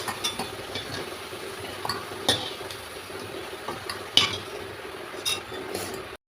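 Red-fried potato pieces are lifted one at a time from a pan of hot oil, with scattered metallic clinks and scrapes of a utensil against the pan over a low, faint sizzle, close and fairly quiet.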